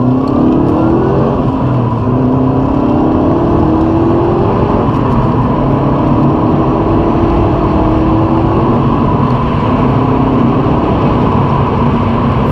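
A Subaru Impreza WRX STI Type UK, 2.5-litre AWD, revs up hard from second gear, rising in pitch and dropping as it shifts, climbing through several gears in a loud, continuous run.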